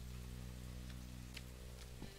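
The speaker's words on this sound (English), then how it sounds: "damn rain though" Steady rain hisses in the video game Rising World with a few scattered raindrop taps, set over a constant low hum, faint and even throughout with no voices.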